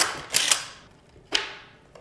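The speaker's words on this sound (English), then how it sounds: "Let's get this side bolted on." Deck bolts on a Meepo V3 electric skateboard are tightened by hand, with a few quick close ratcheting clicks followed by a fainter second burst.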